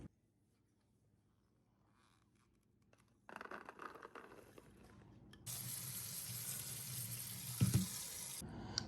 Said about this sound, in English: Then I'm going to give everything a really good rinse before I put it into the juicer.